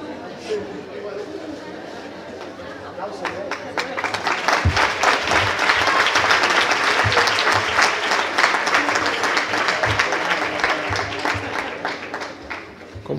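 Audience at an international severe trauma medical symposium breaks into loud, sustained applause, swelling after a few seconds into dense clapping with some crowd murmur, then easing slightly toward the end.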